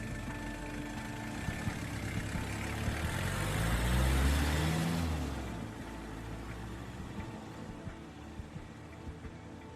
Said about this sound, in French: Il remonte dans sa voiture et part